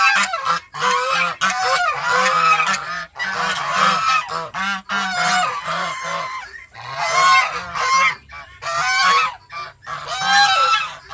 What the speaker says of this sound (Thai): อันนี้ก็เรียกห่านจีนนะครับ ห่านจีน